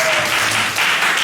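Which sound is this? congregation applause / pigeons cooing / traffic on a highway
congregation applause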